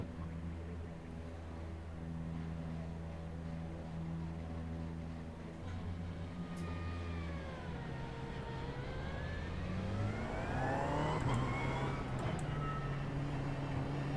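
A Ferrari race car engine in a racing video game at Okayama drones low and steady, then climbs in pitch as it accelerates and drops through gear changes. The sound is faint and continuous, with no talk.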